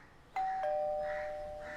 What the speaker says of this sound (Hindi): मैंने दरवाजे की घंटी बजाई,